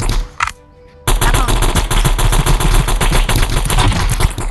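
Video game gunfire: after a brief silence, a loud, dense burst of rapid automatic shots runs continuously to the end.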